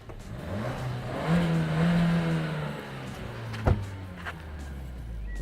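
2019 Suzuki Swift Sport engine revving through its sports exhaust from outside the car, a moderate rise and fall in revs with a sharp knock midway, no talk.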